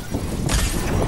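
An enemy's shield cracking in a shooter video game, a sudden bright shattering burst landing midway over a busy low rumble of game sound.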